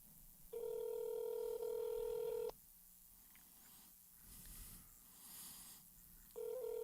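Telephone tones play over a speakerphone call, two long steady electronic tones separated by a quiet gap with faint background sound, then the tone starts again at the end.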